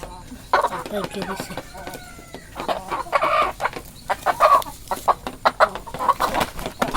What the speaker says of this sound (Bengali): এটা হচ্ছে রানিং ডিম পাড়া মুরগি